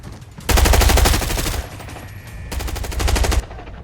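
Two loud automatic bursts of rapid gunfire in Arena Breakout, close by, each lasting about a second with a brief pause between.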